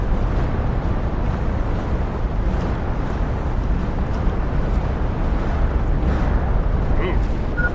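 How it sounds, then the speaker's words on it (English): Dense, continuous rumbling roar of an asteroid barrage striking the ground in the Planet Crafter survival game, loud and sustained with scattered muffled booms throughout and no distinct pauses. "Pretty aggressive barrage of asteroids."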